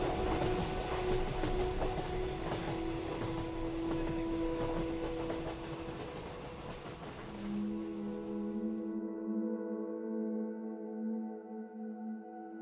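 A train running on rails serves as an audio-drama effect, a steady rattling rumble that fades out after about nine seconds. Sustained musical tones carry on alone after it fades.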